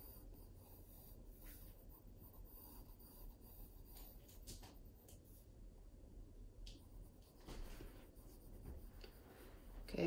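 Pencil laying soft sketch lines on paper for a still life drawing, a quiet, close scratching and rubbing in continuous strokes, faint throughout with a slightly louder scrape near the end.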